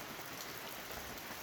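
Steady afternoon rain falls in Volcan, Panama, a soft continuous hiss of drops on surfaces with no voices, faint and even throughout.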